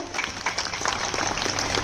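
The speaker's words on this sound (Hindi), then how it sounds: "मैं चाहूंगी कि चारुलता जी के लिए एक बार जोरदार ताली बजाए" A crowd at a school annual day celebration applauds for an honoured guest, with steady, moderately loud clapping that is continuous and unbroken through the short moment.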